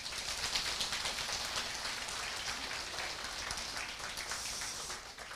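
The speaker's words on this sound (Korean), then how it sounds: "그 정도 박수를 보내서는 70만 안 맞을 것 같습니다" A seminar audience claps together in a hall during a Korean motivational talk, producing a dense, even patter of many hands that holds steady for several seconds before fading slightly at the end.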